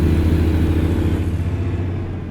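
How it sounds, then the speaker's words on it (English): A Kenworth W900 truck engine in American Truck Simulator rumbles loud and steady with a deep low drone, revs easing slightly toward the end, no voices over it. "it's going to take me a trip or two to get used to that RPM sound"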